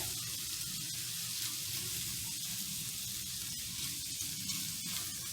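Cajun shrimp spread in a single layer across the bottom of a hot pan, sizzling and frying with a steady, close, continuous crackle throughout.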